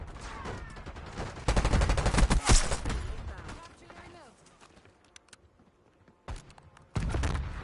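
Sniper gunfire in a Call of Duty match comes as bursts of sharp shots and rattling fire, loud and near, with quieter gaps between and a voice talking over part of it.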